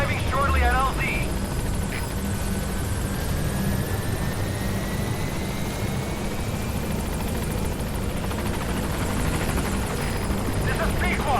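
A helicopter arriving at a landing zone in Metal Gear Solid V, its steady rotor and engine drone loud and continuous throughout, with radio voices speaking over it.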